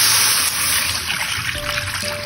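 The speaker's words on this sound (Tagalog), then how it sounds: "So, maglalagay na tayo ng tubig dito sa ating kawali." Water poured into a frying pan (kawali) while cooking Chinese fried chicken, a steady trickling pour running through the whole stretch at moderate, close volume, with no voices.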